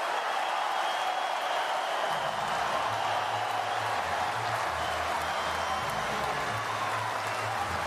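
At a wheelchair tennis quarterfinal, a large crowd applauds in a steady, wide wash of clapping that holds at an even level throughout, with a low rumble of the venue underneath.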